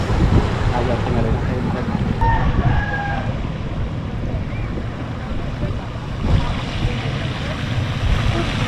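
Loud, gusty wind from Super Typhoon Odette in Bayawan City roars and buffets the microphone throughout, with rumbling low noise and faint background sounds.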